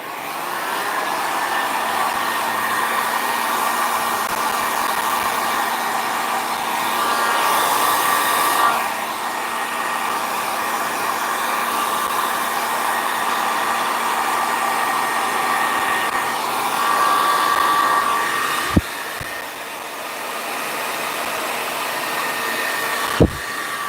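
A hair dryer blows steadily on paint applied to photo paper, a loud, continuous whirring rush that holds for the whole stretch with a couple of sharp clicks near the end and no talking.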